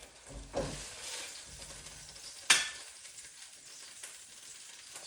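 Bacon is tossed into a hot pan for a chicken, cabbage and potato dish, and a steady close sizzle rises with two sharp hissing bursts as pieces hit the oil.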